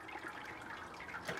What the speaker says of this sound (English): we're adding our water slowly and letting that drain